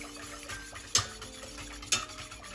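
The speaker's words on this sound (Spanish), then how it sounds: "Y removemos hasta que se espese." Stirring a thickening chocolate cream in a pot, soft scraping circles with two clear clinks of the utensil against the pot rim about a second apart, close and quiet.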